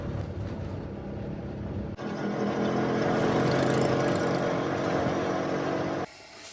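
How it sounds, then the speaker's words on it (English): A tuk-tuk engine drones steadily during a fast ride in Vietnam, a constant rough motor hum with road and wind noise that swells louder partway through, then cuts back sharply near the end. "Now we're taking a very fast tuk-tuk ride to go and visit a coconut factory"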